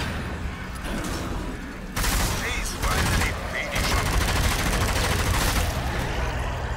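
Sustained automatic gunfire and rapid shots from the zombie shooter video game Zombie Army 4: Dead War, loud and continuous throughout with bursts intensifying midway, mixed with game effects.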